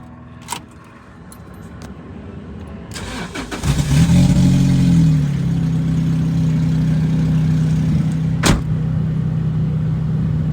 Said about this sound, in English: new motor mounts in, first cold start of the day